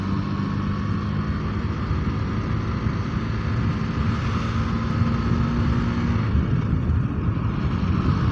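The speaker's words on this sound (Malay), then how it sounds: "motor yang aku pakai ni macam korang nampak KTM tu ha, 250" Engine drone of a KTM 250 motorcycle ridden at steady speed, a continuous loud hum with wind noise that rises slightly in the middle and stays constant throughout.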